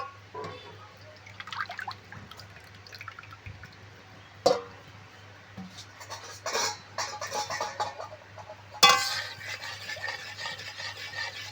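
Mango pulp is stirred in a pan on the stove, with soft, irregular scraping and wet slurping sounds close by, fairly quiet with occasional sharper clinks against the pan.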